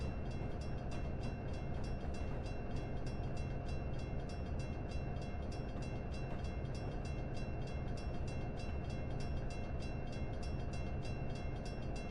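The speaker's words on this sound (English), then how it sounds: "It is indeed an ALCo PA" An ALCo PA diesel locomotive in a train simulator game on the New York Central's Boston to Albany line drones steadily with a continuous engine hum and rail rumble, no talk.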